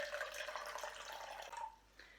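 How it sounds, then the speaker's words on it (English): Water poured into a plant pot for growing herbs, a steady splashing trickle that runs for about a second and a half before tapering off, followed by a faint drip. "take your pot"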